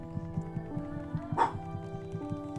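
A pet dog barks once, short and fairly close, over a steady background of looping game music; no one speaks.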